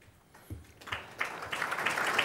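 An audience at a political forum breaks into applause, starting thin and sparse and swelling into steady, fairly distant clapping that builds toward the end.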